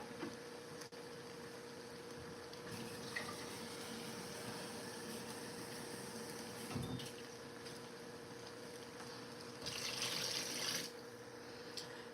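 Water pours into a pot of potatoes as a steady, moderately loud broadband rush lasting the full stretch, with a brighter burst of splashing near the end.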